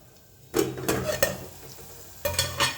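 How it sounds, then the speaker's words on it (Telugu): Onions frying in a pan for a gokarakaya curry give a steady close sizzle, with stirring scrapes breaking in twice, loud and without talk. "ఉల్లిపాయలు వేగాయి, ఇందులోనే పచ్చిమిర్చి వేసేసుకుందాం."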